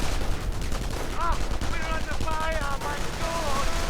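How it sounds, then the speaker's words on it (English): Grenades bursting and gunfire crackling in a real-time strategy battle with troops and a Stu 42 firing, a dense, continuous clatter of shots and blasts running the whole time with faint whistling tones above. "And we are seeing grenades going off, troops going down, Stu 42 blasting."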